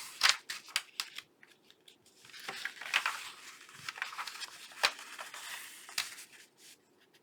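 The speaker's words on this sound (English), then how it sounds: "I'm going to cut this one down, or trim it down" Scissors snipping and trimming paper for a handmade junk journal, a series of sharp close cuts and crisp paper rustles with uneven pauses between strokes, no talking.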